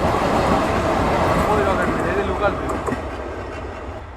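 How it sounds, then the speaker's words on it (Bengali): Rocket Mail train rushing past at Singia junction in Bangladesh, a loud, continuous rumbling roar of wheels and carriages close by that eases slightly toward the end. "সিঙ্গিয়া জংশন সাথে ক্রসিং হলো রকেট মেইল ট্রেনের দুর্দান্ত নিয়ে ছুটে গেল রকেট মেইল"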